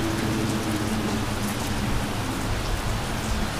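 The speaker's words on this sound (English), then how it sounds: "I love the rain." Rain falling on a Halloween evening, a steady dense hiss of drops on surfaces, even and continuous throughout with no voices.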